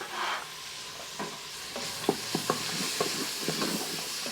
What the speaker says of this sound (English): Okay, carrots are going in. We're going to cook that for about 3 minutes.